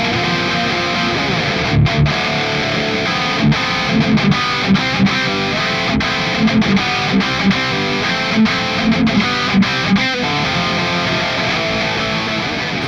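Heavily distorted electric guitar through a Clairvoyant amp sim on its heavy channel, playing chugging low riffs with sharp palm-muted stabs and brief stops, loud and continuous with no talking.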